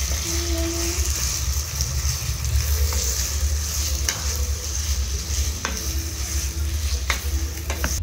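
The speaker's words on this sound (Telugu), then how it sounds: "కీమాని మన కడాయిలో వేసుకొని అల్లం పేస్ట్ కీమాకి బాగా పట్టేలాగా కలుపుకోవాలి" Chicken mince with ginger paste is stirred in a kadai, giving a loud, steady sizzle with a low rumbling undertone and a few sharp scrapes and clicks of the spoon against the pan, heard close and with no talking.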